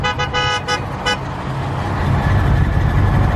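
Several short, sharp car horn toots sound up close in city traffic, then give way to a steady rumble of engines and road noise.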